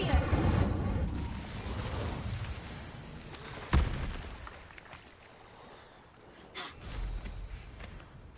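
The Incendio fire spell is cast in Hogwarts Legacy, heard as a sharp, whooshing pop that flares over game ambience, with a speaking voice present around it.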